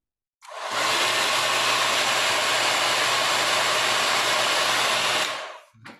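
An iTeraCare device running on high fan and high heat gives a loud, steady, close blowing whoosh like a hair dryer, starting abruptly, holding for about five seconds, then switching off.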